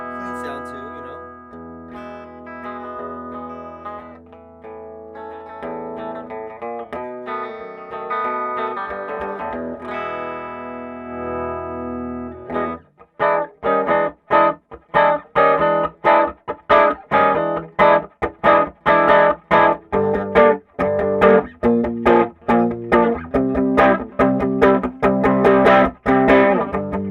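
An electric guitar with humbucker pickups played through a vintage 1960s Harmony H420 tube amplifier: sustained distorted chords ring out first, then give way to a run of choppy, rhythmic strummed stabs, loud and close.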